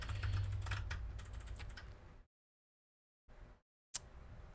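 Rapid clicking on a computer keyboard is heard up close for about two seconds. It stops into silence, then a few more brief keystroke bursts follow.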